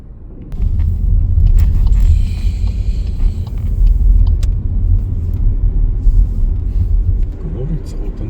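Inside a car on an autumn road trip through Alsace, France, a steady low road rumble and engine drone fill the cabin at close range, while people talk over it.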